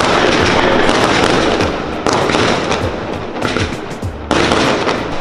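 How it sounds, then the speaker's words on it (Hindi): Firecrackers crackle continuously in dense, rapid bursts, loud and close, with the volume shifting slightly as new strings ignite, and no talking over it. "मेरी चीज़ आने की खुशी में पटाखे बज रहे हैं।"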